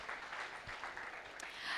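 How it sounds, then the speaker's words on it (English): A conference audience gives a brief round of applause, a soft, fairly distant patter of many hands over a short stretch. "And a huge round of applause."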